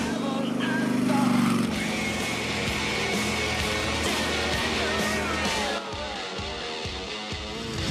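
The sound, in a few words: Harley-Davidson V-twin motorcycle engine riding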